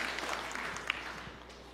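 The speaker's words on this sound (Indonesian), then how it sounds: "Berikan tepuk tangan yang meriah buat Tuhan." A church congregation gives a steady, distant wash of applause that holds at an even level, with no voices standing out above it.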